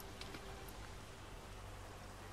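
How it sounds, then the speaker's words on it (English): Rain falling in the military game Arma 3, a steady, faint hiss of rainfall that holds evenly throughout with a few light patters near the start. "the rain doesn't actually go through it like some Arma buildings"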